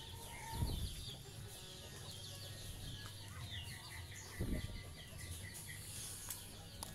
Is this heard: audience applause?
no